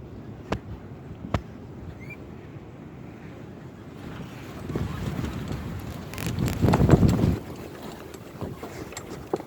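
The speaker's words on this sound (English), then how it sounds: "It's so windy in here" Wind gusting around and inside a boat, a steady rushing noise with low buffeting that swells louder toward the end, broken by a couple of sharp knocks early on.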